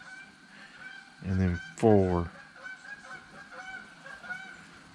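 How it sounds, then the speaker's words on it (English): Geese flying over outdoors, two loud nasal honks in quick succession rising above a quiet background, with someone speaking briefly just before them. "Some geese flying over."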